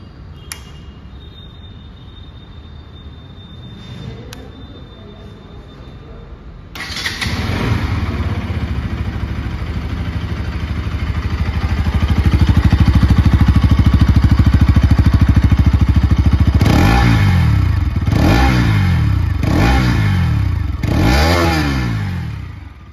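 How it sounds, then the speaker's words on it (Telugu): A Bajaj Pulsar NS200 motorcycle is started after a quiet pause, settles into a loud close idle, then gets several sharp throttle blips that rise and fall in quick succession. "ఫస్ట్ మనం NS 200ని స్టార్ట్ చేసి సౌండ్ బీట్ అయితే చూద్దాం."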